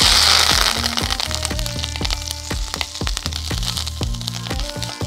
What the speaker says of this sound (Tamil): கருவேப்பிலையை வந்து நான் அப்படியே லைட்டாக ஆயில் போட்டு ட்ரை ரோஸ்ட்